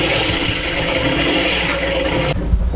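Water gushes and hisses steadily from leaking fittings on a water purifier, a loud continuous rush that cuts off sharply near the end.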